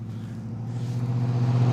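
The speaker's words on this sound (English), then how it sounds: "I'm gonna go ahead and wait for this truck to go by" Truck driving by on a road, a low rumbling engine that grows steadily louder and nearer over a couple of seconds, heard alone.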